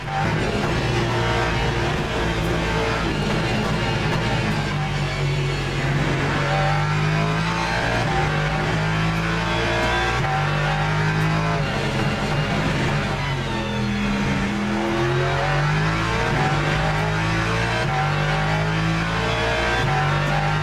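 A race car engine in the sim racing game Le Mans Ultimate roars continuously, rising and falling in pitch through repeated gear shifts and throttle changes, loud and steady throughout with no talking.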